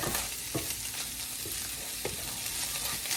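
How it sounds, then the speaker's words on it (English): Onion pieces fry in a pan for a cheeseburger casserole with a steady, close sizzle and a few stirring scrapes, no voices. "I also turn this down just a little bit because I don't want it to burn. I want those pieces of onion to cook."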